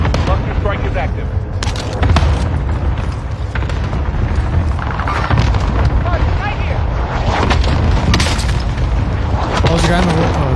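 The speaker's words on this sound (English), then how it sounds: "Allied cluster strike arriving" Cluster strike explosions in a battle royale video game, a dense run of heavy booms and rumbling blasts layered over loud game audio, with voices talking throughout.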